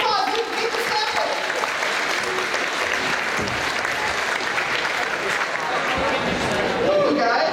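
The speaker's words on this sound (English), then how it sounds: "let's give a round of applause" Audience of high school freshmen at an orientation day applauding, a dense, steady burst of clapping that lasts throughout, loud and close, with some crowd noise mixed in.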